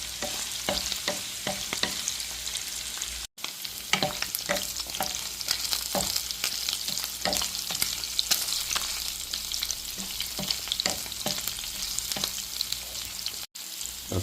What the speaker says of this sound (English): the onion and saltfish cook up really nice.